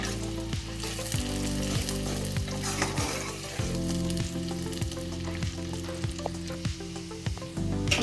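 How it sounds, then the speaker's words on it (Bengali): Chopped onions fry in oil in a pot for chicken korma over a low flame, giving a continuous crackling sizzle with repeated metallic scrapes and stirring strokes. No one speaks. "এটাকে ভালো করে তেলে ভেজে নেবো।"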